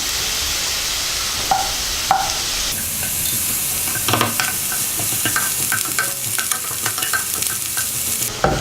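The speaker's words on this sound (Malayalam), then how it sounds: "ഇതിലേക്ക് എടുത്തു വെച്ചിരിക്കുന്ന ജിഞ്ചർ ഗാർലിക് പേസ്റ്റ് ചേർത്ത് കൊടുക്കാം" Ginger garlic paste fries with golden-browning onions in a pan for a lentil and bottle gourd curry, a constant loud hiss punctuated by scattered spoon scrapes and taps, close up with no voices.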